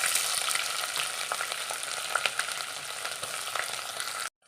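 Garlic frying in oil for a vadukapuli lemon pickle, with a dense, continuous sizzle and scattered small crackles at close range, holding steady before cutting off abruptly.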